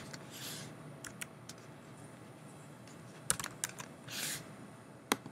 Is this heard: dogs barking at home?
no